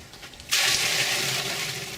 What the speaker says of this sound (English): We're going to refill the barrel.